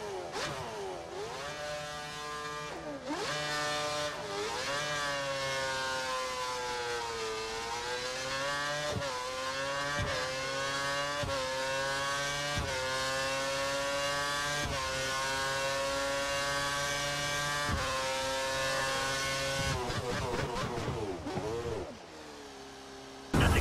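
A Formula 1 car in the F1 2013 racing game on a wet track: a loud, continuous high-pitched engine whine climbs and dips through gear changes, then drops away sharply near the end as the car brakes to a stop.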